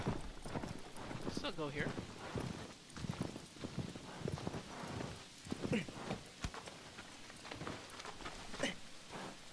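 Horse hooves clip-clop in the video game Shadow of the Colossus, a repeated trotting rhythm set against rain-like ambience, with someone talking over much of it.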